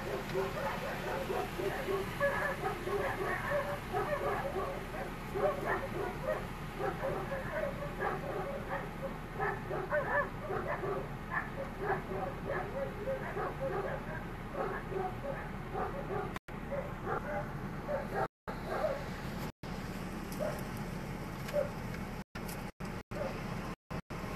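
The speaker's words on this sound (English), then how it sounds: "you guys can hear the dogs now" Several dogs bark behind a fence on a neighboring property, a steady run of repeated yips and barks at moderate distance, with voices and outdoor background noise over much of it.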